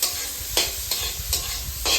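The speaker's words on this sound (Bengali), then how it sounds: "এবার এগুলো একটু ভাজা হতে দেবো।" Vegetables with raisins and cashews fry in a hot pan for fried rice, a steady sizzle broken by about four sharp scraping stirs of the spatula, close and clear with no talking.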